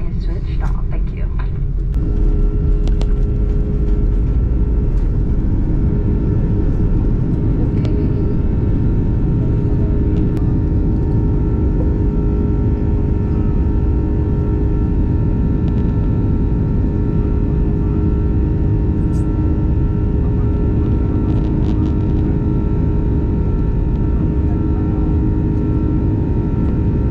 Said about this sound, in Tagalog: your crew will now take their seats in preparation for takeoff